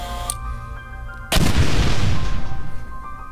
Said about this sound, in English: The explosion of the building in 30 seconds.